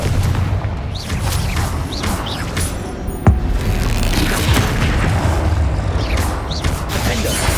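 A Confringo fire spell explodes in the Hogwarts Legacy video game, one sharp blast cutting through a dense, continuous rumble of game effects and background noise.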